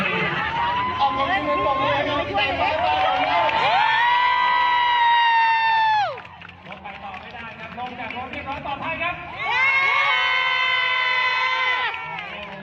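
A cheering squad of friends yells and whoops in long, loud sustained bursts, with a quieter patch of mixed chatter and noise between the two big rounds of shouting.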